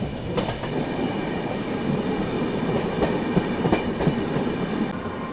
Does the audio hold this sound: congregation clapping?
no